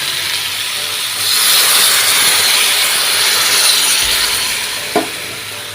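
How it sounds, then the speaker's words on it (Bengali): Water poured into fried raw jackfruit in a wok sets off a loud surge of hissing steam and sizzling that swells, holds, then eases, with a single stirring knock near the end; no talking. "এঁচড়টাকেও কড়াইয়ে দিয়ে কিন্তু নাড়াচাড়া করে ভাজা ভাজা হয়ে গেল এবার আমি জল দিয়ে দিচ্ছি"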